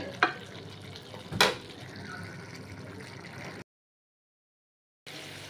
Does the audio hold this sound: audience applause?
no